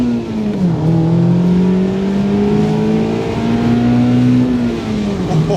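Four-cylinder engine of a Mazda MX-5 ND revving while driving, the pitch climbing and dipping through the gears with a smooth, steady tone that stays loud and close throughout.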